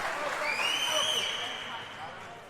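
A crowd at a Who's Number One grappling match between Tye Ruotolo and Johnny Tama cheers and claps, a broad wash of noise with a shrill whistle rising through it, fading slightly near the end.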